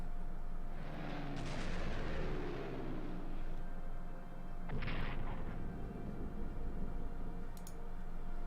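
Booming artillery fire and bombing from a World War I strategy game, Strategic Command, rolling over a steady rumble, with a dense burst of blasts early on and a second sharp volley midway.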